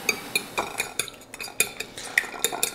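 A whisk or fork beats a mixture in a bowl for coating fish fillets, with quick irregular clinks and scrapes against the bowl, close and fairly loud, in bursts with brief pauses.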